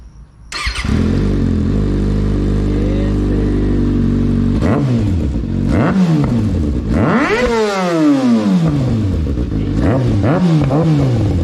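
Kawasaki 636 motorcycle with an M4 exhaust starting up, idling loudly, then revving in repeated sharp rising and falling blips, close and aggressive.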